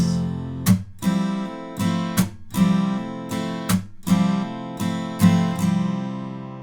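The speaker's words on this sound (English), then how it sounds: "Now on that very final up strum of the strumming pattern, you can actually lift that middle finger again." Close acoustic guitar strumming of a song's pattern, with crisp down and up strokes in a regular rhythm and the middle finger lifted on the final up strum, ringing chords and no voices.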